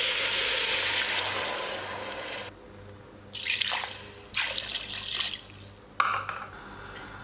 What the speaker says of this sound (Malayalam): ഇതിലേക്കൊരു 3 കപ്പ് വെള്ളം ഒഴിച്ച് കൊടുക്കുന്നുണ്ട് കേട്ടോ